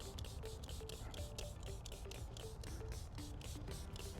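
Short bursts of a hand sprayer misting slip solution onto the lower door of a Tesla Model Y during XPEL paint protection film installation, repeated pumps in quick rhythm, close and fairly quiet.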